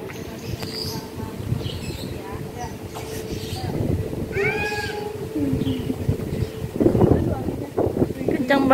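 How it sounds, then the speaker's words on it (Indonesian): Strong wind blowing at a family holiday lodging during a room tour, a continuous rushing buffet on the microphone under close talking voices, with a brief cat-like meow partway through. "Kencang banget anginnya."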